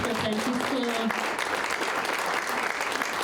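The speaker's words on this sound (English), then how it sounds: "Another round of applause for Francisco" An audience at a community storytelling lunch breaks into applause, with steady clapping throughout and a voice speaking over the start.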